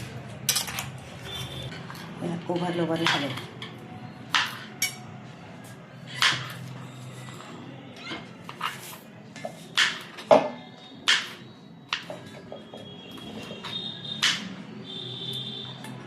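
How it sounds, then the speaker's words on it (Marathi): Aloe vera stalks are chopped into small pieces for herbal soap, giving sharp, intermittent knife taps and clinks on a hard surface, spaced irregularly with soft handling noise between them. "दोन कोरफडच्या काड्या घेतलेल्या होत्या आपण इथे, ते दोन्ही तुकडे करून घेतोय"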